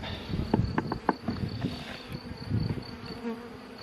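Honeybees buzz around an open hive during a beekeeper's inspection of brood and laying, a steady close drone with brief louder passes near the start, alone without talk.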